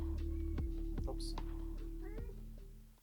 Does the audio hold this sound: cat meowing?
yes